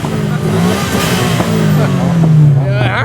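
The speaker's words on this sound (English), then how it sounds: "I might have a rev off here, boys." At a drifting event, a car engine revs loudly up close, its pitch rising and swooping across a few seconds, with people talking and reacting around it.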